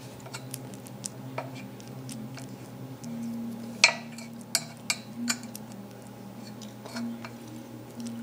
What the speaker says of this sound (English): taking your spoon, flatten down your treats